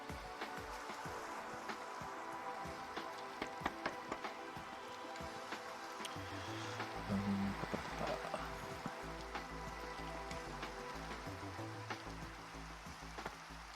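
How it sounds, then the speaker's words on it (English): Steady rain in the Minecraft video game, a soft continuous patter and hiss at low level with faint clicks, alone and without talk. "I don't like the rain."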